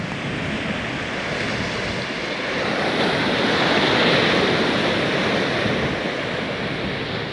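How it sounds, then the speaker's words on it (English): Big ocean waves breaking on the shore at Cape Cod make a loud, continuous roaring wash that swells slightly midway. There is no talk. "Other people coming to see the big waves."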